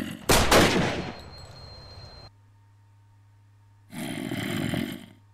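A sound grenade goes off in the Minecraft mod Crafting Dead, giving a sharp loud burst that fades over about two seconds. A quieter lull follows, then a second rough, noisy burst.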